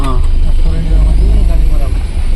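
Traffic jam on a Bangalore road during heavy rain, with a broken-down bus among the stalled vehicles: a constant low engine rumble and idling drone runs throughout, with voices talking nearby over it.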